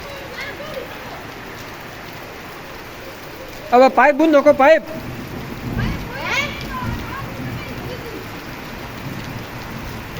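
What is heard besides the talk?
heavy rain falling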